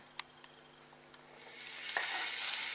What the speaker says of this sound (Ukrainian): На розігріту пательню з олією викладаємо наші грибочки.